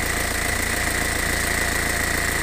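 A 2002 Renault Megane engine running at a steady idle, a continuous close mechanical hum with a faint rhythmic ticking throughout, alone with no voices.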